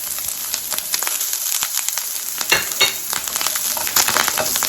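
Garlic and parsley hit melted butter and fry with a dense, steady sizzle and crackle, close up, with occasional stirring scrapes.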